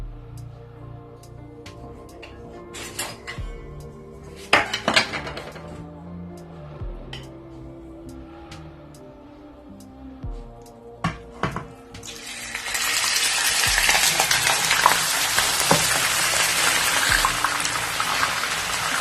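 Beef keema, about 1 kg, dropped into a cup of hot ghee in a karahi and frying, a loud broadband sizzle surging up in the latter half after clinks and clatters of cookware.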